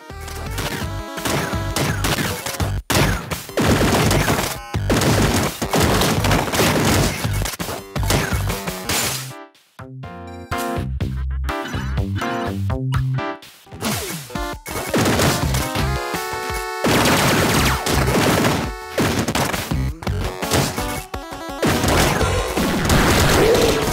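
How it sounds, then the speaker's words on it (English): Gun boots firing bullets in the video game Downwell, a loud, dense barrage of crunchy retro shots and crashes over game music, briefly dropping out midway before resuming. "You're equipped with the gun boots, a set of boots that let you shoot bullets from your feet."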